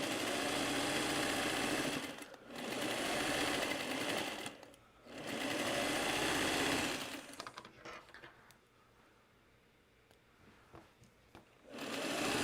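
Singer sewing machine stitching, a steady fast mechanical whir that runs in long bursts with short pauses, then eases into quieter intermittent clicking before starting up again.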